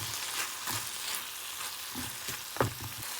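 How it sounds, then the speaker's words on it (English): Tomatoes and peppers stirred into a sizzling biryani base in a pan, a steady soft fry hiss broken by a few scraping stirs and one sharper clank of the spoon near the end. "Now I'm going to mix it well."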